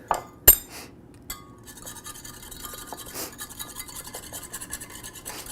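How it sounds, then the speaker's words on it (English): A little whisk stirring white sauce, with light scraping and clinking against the dish, a couple of sharper clinks near the start followed by a steady, soft stirring texture. "So basically, you stir it up or use a little whisk."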